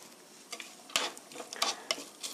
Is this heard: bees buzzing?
no